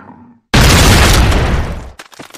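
Explosive shells detonate in a single loud, sustained blast that roars for about a second and a half before breaking into scattered debris noise, set in a dramatized action audio production.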